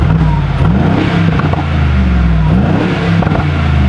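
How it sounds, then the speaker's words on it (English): A 2021 Mercedes AMG G63 4Matic's V8 growls loudly through its valved exhaust in Sport Plus mode, with the engine note rising and falling through several revs and shifts while driving. "this one with that does have a valved exhaust, so you can hear the V8 engine better when you're in Sport Plus"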